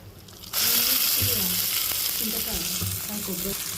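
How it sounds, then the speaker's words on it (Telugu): Coconut and raw mango chutney drops into a hot red-fried tempering, setting off a sudden loud sizzle that holds steady as the mixture is stirred, with scraping and bubbling under the hiss. "పోపు అయితే ఎర్రగా వేగింది ఈ పచ్చడి నేను ఇందులో వేసేస్తున్నా ఇప్పుడు మొత్తం"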